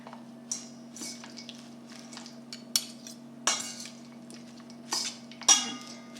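Arugula salad is tossed with utensils in a bowl, giving soft leafy rustles and squishes broken by intermittent light clinks of cutlery against the bowl, with no talking.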